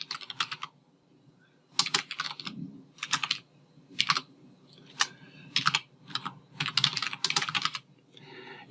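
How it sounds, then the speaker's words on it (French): Typing on a computer keyboard while composing an email message, heard as bursts of rapid key clicks separated by short pauses, close and fairly clear with no talking. "Je vais donc écrire un nouveau message."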